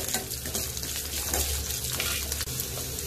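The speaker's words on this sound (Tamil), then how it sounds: "இப்போ பூண்டு ஃப்ரை ஆகிடுச்சிங்க." Garlic fries in oil for horsegram chutney, giving a soft, continuous bubbling sizzle at low volume with faint stirring.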